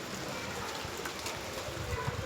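Rain pours steadily outdoors as a dense, even hiss of drops on surfaces, at a moderate level with no voices.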